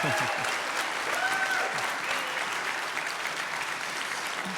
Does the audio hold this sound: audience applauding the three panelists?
yes